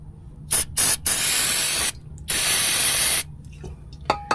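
Aerosol spray bursts aimed up at the transmission selector input shaft underneath a car: five loud hissing blasts, two short, then two long and one more, with brief pauses and faint clicks between.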